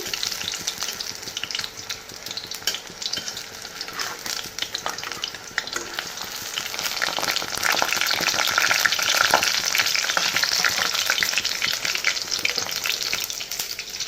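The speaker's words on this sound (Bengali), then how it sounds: "চলো গরম গরম বড়াটাও ভেজে নিচ্ছি" Bora fritters fry in a pan of hot oil with a dense, continuous crackling sizzle and a few stirring scrapes. The frying grows slightly louder partway through and carries on unbroken.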